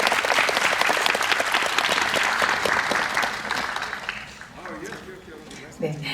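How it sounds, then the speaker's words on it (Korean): An audience at a film director's stage greeting claps in a dense, loud burst that fades over several seconds as a voice begins speaking over the tail. "여러분 박수 부탁드립니다"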